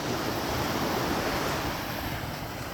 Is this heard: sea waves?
yes